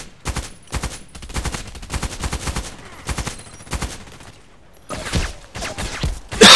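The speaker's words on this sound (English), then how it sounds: "There was 3 shots now." Pistol shots in a Call of Duty style shooter game, a series of sharp cracks in irregular bursts with brief gaps, loud and close, alone without talk.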